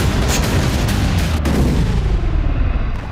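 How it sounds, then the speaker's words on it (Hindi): Russian artillery and tank fire pound Sumi, Ukraine, in a loud, dense barrage of overlapping booms and cracks that continues without a break. "सूमी में रूस की आर्टिलरी और टैंक बटालियन भीषण वज्रपात कर रही है।"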